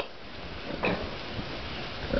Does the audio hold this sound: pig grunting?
yes